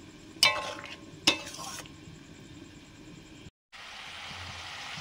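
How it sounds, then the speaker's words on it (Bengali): Fried potatoes added to chicken cooking in a pan, two sharp metallic clanks of utensil on pan over a low steady sizzle, then a brief gap before the frying hiss resumes louder. "মাংসের আলু ভাজা ছিল দিয়ে দিলাম,"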